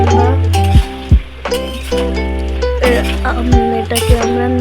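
Potatoes are stirred into a thick mixture in a pan, with sharp clinks of a spoon against the metal and a gentle sizzle beneath, under a continuous low background hum.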